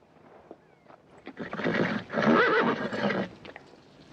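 A horse gives a loud, drawn-out whinny nearby, preceded by some quieter snorting and shuffling.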